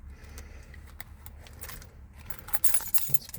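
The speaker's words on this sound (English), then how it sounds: "Let's just take all these keys off of here." Metal keys jingle and clink as they are worked off a key ring by hand. The sound is close and comes in scattered bursts, getting busier and louder toward the end.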